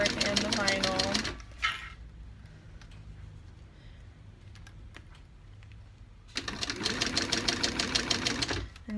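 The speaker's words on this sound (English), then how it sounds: "I'm sewing the two pieces together" A sewing machine stitches fabric and a vinyl strap together in two fast, rattling bursts at the start and end, with a quieter pause between them.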